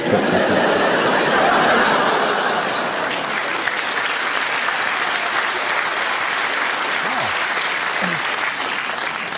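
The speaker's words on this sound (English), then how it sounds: "A round of applause for a Fritzl joke" A comedy club audience applauds after a dark Jimmy Carr joke, loud dense clapping with scattered chuckles and laughter mixed in, holding steady throughout.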